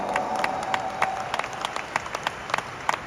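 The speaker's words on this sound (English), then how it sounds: "Can we give Riway a round of applause today?" A crowd at a corporate event applauds with scattered sharp claps, moderately faint and steady for a few seconds.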